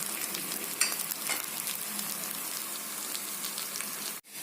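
Paniyaram batter frying in oil in a pan, a steady crackling sizzle heard close and alone, ending with a brief clatter.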